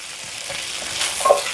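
Green beans blistering in a hot pan give a steady, loud close sizzle with a soft stirring rustle and a brief pop near the end, with no voices.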